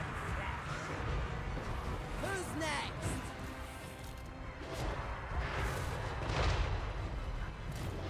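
Artillery fire from the Queen Bess cannon in a Total War fantasy battle, heavy booming blasts and crashes layered over constant battlefield din, with a voice speaking over the game throughout.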